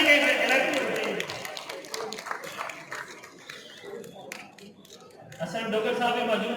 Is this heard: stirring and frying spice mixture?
no